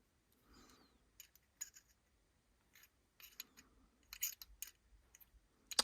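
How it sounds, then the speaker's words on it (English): Scissors snip at something in a quiet room, soft scattered clicks and short metallic cuts in uneven bursts, faint and close, with no talking. "Maybe it's because I'm not using good scissors."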